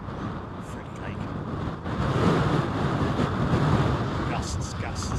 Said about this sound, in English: Gusts, gusts.